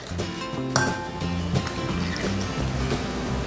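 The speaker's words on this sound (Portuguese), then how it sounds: "Vou misturar bem antes de colocar a farinha de trigo" A spoon works grated parmesan cheese into a savory cueca virada batter, making repeated wet, sloshing stirring strokes with an occasional light clink against the bowl. The sound is close and steady, with no voice.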